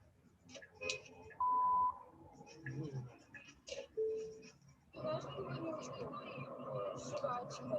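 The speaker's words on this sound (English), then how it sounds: "It beeped before those guys crashed, which means the car knew there was going to be a crash." A steady electronic beep tone from a car's collision warning sounds briefly amid background chatter, followed by a short second tone, then louder noisy activity takes over.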